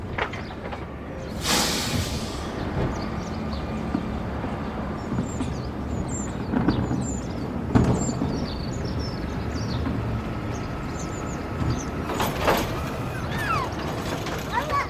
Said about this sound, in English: There goes the rubbish from the bin into the truck.